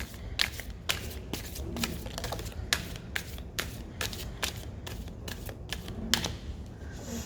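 A tarot deck is shuffled by hand close up, producing a run of quick, crisp card riffles and flicks at an irregular rhythm, fairly quiet and with no talking over it.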